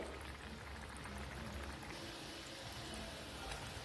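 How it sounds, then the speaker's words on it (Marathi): Vadas deep-frying in hot oil as a farsan breakfast snack, a steady, dense bubbling sizzle that holds at an even level throughout, close by, with no talk over it. "तेलामध्ये छान गोल्डन कलर आला पाहिजे ना आपल्या वड्यांना अशा पद्धतीने आपण छान तळून घ्यायचे हे वडे"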